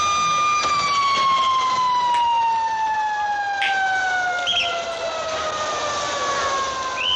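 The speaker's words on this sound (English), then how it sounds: "The fire engines." Fire engine sirens from the 1963 James Bond film From Russia With Love, a loud wailing tone gliding slowly downward with fainter overlapping siren lines, steady and close, with no speech over it.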